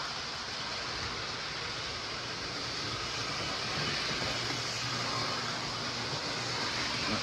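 A Lionel postwar toy train engine runs a little fast along its track in a Christmas layout, a steady close whirring rumble with faint rail clatter that continues evenly, with no voices.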